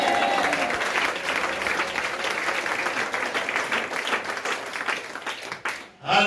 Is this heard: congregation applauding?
yes